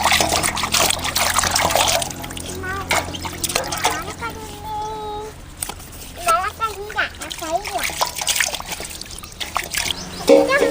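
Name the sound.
washing drumsticks under running water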